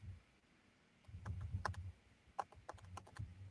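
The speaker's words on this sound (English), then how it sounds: "but like just typing anyways because it's fun." Keys clatter on a computer keyboard in a quiet room, a quick run of soft irregular clicks and taps, close and faint, with no voices.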